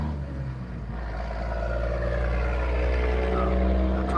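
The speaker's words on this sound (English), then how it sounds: "that truck's kind of loud" A truck rumbles past nearby on a rainy street, its deep engine drone swelling steadily louder across the moment with a broad low roar and hiss.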